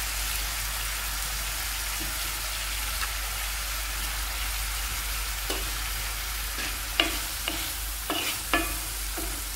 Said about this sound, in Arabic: يتقلى لي مليح البصل مع الدجاج